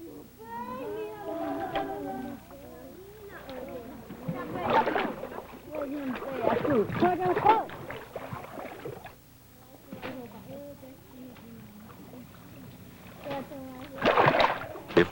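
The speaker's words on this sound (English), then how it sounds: "the women scoop up the fish either by the handful or with loosely woven shallow baskets" Women scooping fish from a stream by hand and with loosely woven shallow baskets, with intermittent water splashes and sloshing as baskets dip and lift, heard under steady narration.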